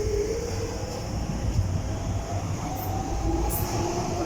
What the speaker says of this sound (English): got a DLR service coming in for Lewisham